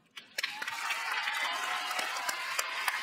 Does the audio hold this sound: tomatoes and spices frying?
no